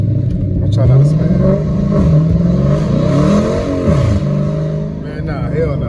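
A catless Dodge Challenger R/T at night accelerates hard with wheels spinning, its loud engine revving and rising in pitch up close while someone talks over it.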